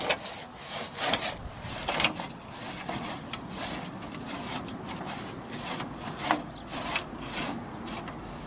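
A hand saw works through old pear tree wood outdoors, a steady back-and-forth rasping of repeated strokes, fairly close and rough, with no talking during the cutting.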